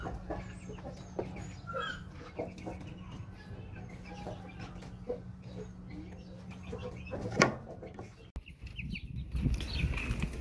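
A gamefowl hen clucks in a small breeding pen, soft scattered clucks and rustling at close range, with a sharp burst of noise near the end.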